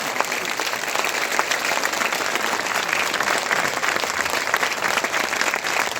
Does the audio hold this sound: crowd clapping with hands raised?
yes